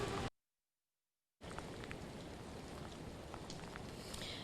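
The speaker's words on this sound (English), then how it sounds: "It seems like the rain is starting to pick up a little bit here" Steady rain during Hurricane Isaias, a dense, even hiss of falling drops that cuts out briefly and then continues without pause.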